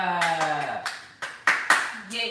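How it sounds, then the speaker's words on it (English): Several sharp hand claps ring out near and loud, spaced irregularly, following and partly overlapping a person's talking in a casual indoor chat. "Clap."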